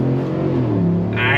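A 2025 Chevrolet Silverado LT Trail Boss pickup accelerating on throttle gives a steady, loud engine drone that builds slightly toward the end, heard close and continuous with no break.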